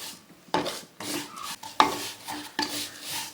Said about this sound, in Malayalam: ഇതൊരു ഗോൾഡൻ കളർ വരുന്നവരെ നമുക്കൊന്ന് ഇതേപോലെ വറുത്തെടുക്കാം.